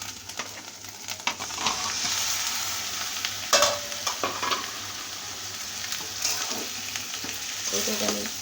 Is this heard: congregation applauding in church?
no